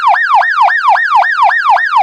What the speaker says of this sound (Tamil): இது ஹைப்பர் ஹெல்ப் சவுண்ட்.